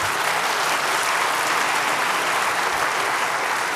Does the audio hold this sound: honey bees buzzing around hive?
no